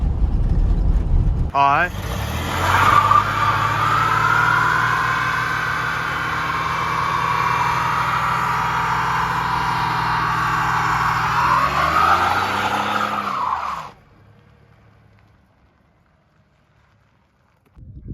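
A Ford truck engine runs steadily after an exhaust leak repair, a low continuous drone with wind buffeting for about twelve seconds before cutting off abruptly into near silence. A voice speaks briefly at the start.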